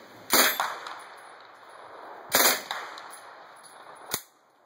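Suppressed Mac-11 9mm firing, two short sharp bursts and then a single clanking shot, each with a metallic ring, fairly close in an otherwise quiet outdoor setting.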